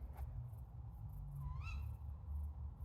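Owl calling at night outdoors, a faint brief wavering hoot-like call rising out of steady low background noise, distant and heard once.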